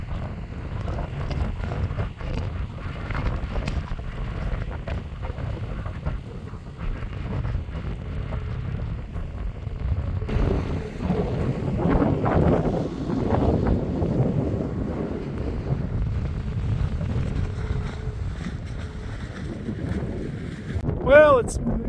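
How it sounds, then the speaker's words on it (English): Steady wind blows across an Alaskan farm field, making a low, buffeting rumble against the microphone that gusts stronger and weaker for about twenty seconds. "the wind hasn't let up"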